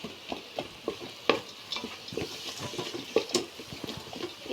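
Chillies stirred into a frying mixture in a pan: repeated spoon scrapes and taps over a continuous frying sizzle, close and busy, with no voices.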